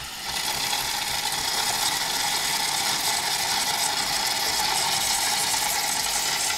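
A Jura D6 coffee machine's frothing nozzle makes foam with a steady, bright, hissing rush of steam that holds at an even level throughout, with no voices.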